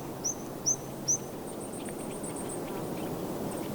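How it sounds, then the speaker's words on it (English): Faint, high birdsong outdoors in the cold air of Taiwan's Hehuan Mountains: three rising whistles, then a quick run of thin chirps over a steady background hiss. "You will hear all kinds of high mountain birds singing in the cold mountain"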